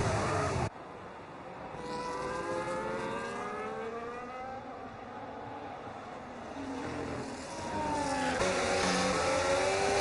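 Race cars, including a McLaren and a Sauber, run at the Australia round of a sim racing league game, with engines droning and rising in pitch through gear changes in a steady, continuous roar.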